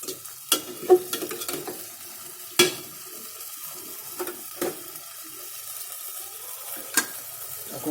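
Meat cooks in a pan with a quiet background sizzle, broken by occasional sharp clinks and scrapes of a spoon stirring against the metal, close and unhurried, without speech.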